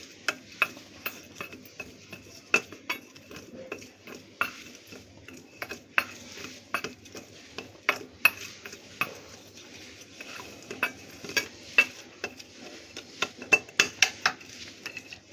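A spoon mixing a dry spice blend in a bowl, with quick, uneven metallic clinks and scrapes against the sides repeating throughout, close and fairly crisp, with no talking.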